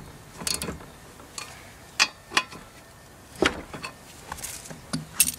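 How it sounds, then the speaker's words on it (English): A wrench tightens the blade bolt on an upturned Toro Recycler lawn mower, producing a handful of sharp close ratcheting clicks and metallic knocks in irregular bursts over a quiet background, with no talking. "you can brace the blade with your foot as you tighten the blade up."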